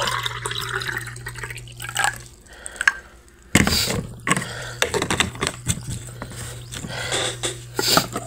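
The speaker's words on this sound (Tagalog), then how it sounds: "Maglalagay lang ako ng tubig." Water poured at home in a quiet room, heard as trickling and dripping liquid with a few clinks and knocks of a container, close and moderately loud, no talking.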